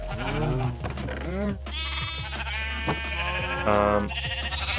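Large sheep in Minecraft bleat several times in wavering calls, close and loud, alternating with other bleats over a steady low game hum.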